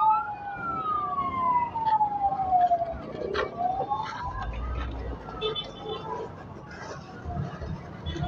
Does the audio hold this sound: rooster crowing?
no